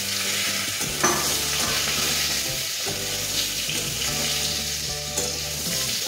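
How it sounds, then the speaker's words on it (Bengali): Potatoes frying in a pan in a home kitchen, a continuous sizzle with occasional stirring scrapes and a steady low hum underneath, close and constant. "একটুখানি ভেজে দিচ্ছি।"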